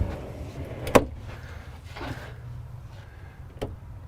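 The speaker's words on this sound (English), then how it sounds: "Nice big pull-out pantry there." A pull-out pantry in a 1999 Winnebago Brave 35C motorhome slides open with a sharp knock, a soft sliding rush, then another light thud as it stops, close and quiet.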